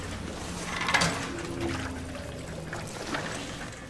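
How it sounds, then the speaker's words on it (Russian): Fuel pours from a canister into a generator in Amnesia: The Bunker, a steady liquid glug and trickle lasting several seconds with a brief louder splash near the start, heard alone. "Еще надо заправлять генератор. И казалось бы, канистра, ну, литров 10, а наливает он, блядь, как украл."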